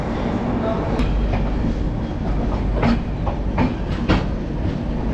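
Onboard the 12042 NJP–Howrah Shatabdi Express pulling out of Malda Town station, a loud, steady rumble with rhythmic clickety-clack wheel beats over rail joints, heard from inside the coach.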